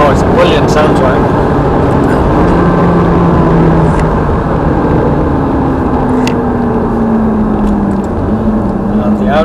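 A powerful Ferrari F430 engine drones steadily at speed on a race circuit, its pitch slowly rising and falling as it revs, while people talk over it.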